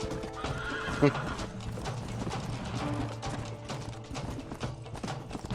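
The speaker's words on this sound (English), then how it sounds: "That's my horse." Horse clip-clopping with a whinny, plus clanking mechanical noises, in a scene from the game Red Dead Redemption with no talk.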